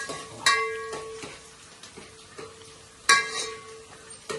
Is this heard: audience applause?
no